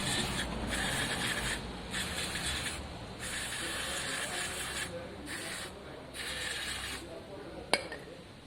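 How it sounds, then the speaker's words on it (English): Bursts of spray hiss through a motorcycle engine block in repeated pulses of roughly a second each with short gaps between them, moderately close, and a single sharp metallic click near the end while a voice talks faintly. "Give it a good spray through."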